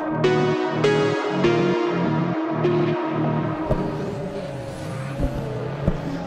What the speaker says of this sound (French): Le duel justement de BMW 92 avec un Damien Fréchet qui s'envole sur le numéro 4